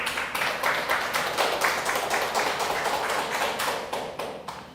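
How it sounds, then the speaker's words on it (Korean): A congregation applauds during a Sunday worship service in a church, a dense, steady wash of many hands clapping with faint rhythmic pulses, sustained for several seconds before tapering off slightly at the end. "하나님께 영광의 박수를"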